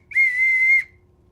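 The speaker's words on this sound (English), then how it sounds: "You can blow a whistle, like this one," A teacher's whistle gives one sharp, steady blast of under a second, near and loud, then stops cleanly, with no talking.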